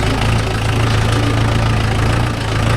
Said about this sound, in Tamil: இன்ஜின் சவுண்ட் நல்லா இருக்குது